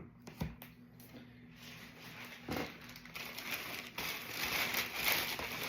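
A plastic ATB supermarket shopping bag crinkles and rustles close up, with scattered crackling bursts that grow busier and louder toward the end.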